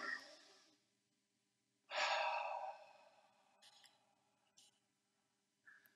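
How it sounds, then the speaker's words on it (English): A lecture audience takes one big deep breath together, heard as a single broad breathy swell that rises sharply and fades over about a second in an otherwise quiet room, with a few small rustles afterward. "let's take a big deep breath"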